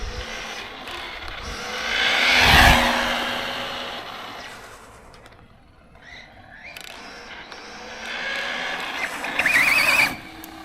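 An MJX 7303 1/7-scale RC car races at top speed, its motor whine swelling loudly as it passes close by, fading, then building again toward the end, with voices faintly in the background.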